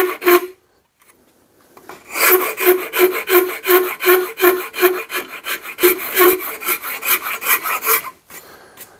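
A rasp files along a wooden double-bit axe handle in quick, even back-and-forth strokes, a loud, close, dry scraping repeated about a dozen times after a brief pause.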